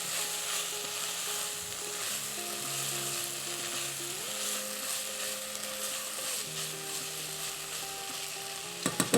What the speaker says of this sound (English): I'm just gonna give this a little bit of a stir.